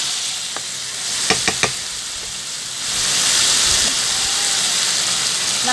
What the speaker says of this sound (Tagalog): Ngayon pong gisa na, lalagyan ko po siya ng tomato paste.